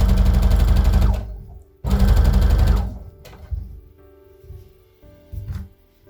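A sewing machine runs in two fast, steady stitching bursts while sewing down both sides of a coat, followed by quieter handling clicks and short mechanical whirs.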